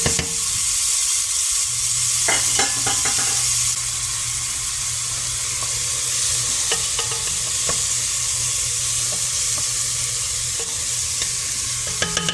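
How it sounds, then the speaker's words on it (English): Three tablespoons of minced garlic sweat in a pan with a steady, close sizzle and hiss, broken by a few scraping stirs and no talk. "I have 3 tablespoons of minced garlic that I'm going to sweat off together"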